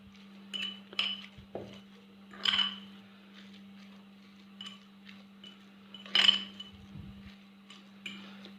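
A utensil clinks against a bowl while crushed egg yolk is mixed with other ingredients for a Ramadan chicken and olive tagine, giving scattered light taps and scrapes over a steady low hum.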